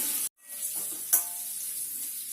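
Boiled eggs lightly frying in oil for an Afghani egg curry, a bright continuous hiss of sizzling that cuts out briefly, then resumes with a soft pop and carries on evenly.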